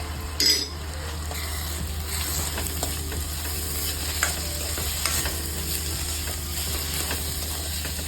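Chopped sour tomato frying with golden-brown onions in a pan, a steady soft sizzle running throughout with occasional stirring scrapes and clicks, close and fairly even.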